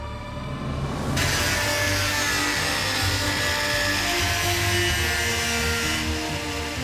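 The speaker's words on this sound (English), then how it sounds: "So the power tools came out and we had some fun." Power tools cut and grind at a dirt bike frame being modified to fit a 600cc two-stroke engine, a steady loud whine with sawing texture running continuously throughout, no talking.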